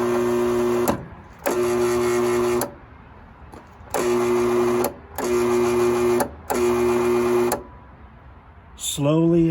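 Bosch table saw motor after a speed control repair, starting and stopping in five loud whirring bursts of about a second each, followed by a brief rising whine at the end.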